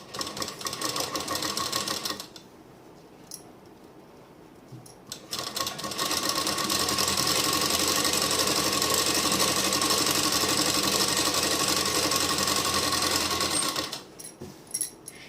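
A sewing machine stitches lining into a suit sleeve: a short close whirring run, a pause, then a long steady burst of rapid stitching that stops abruptly.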